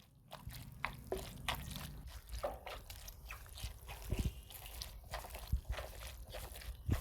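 Water is poured off soaked sago in a kitchen, a faint, close trickle breaking into scattered drips and soft wet squishes after a low rumble at the start.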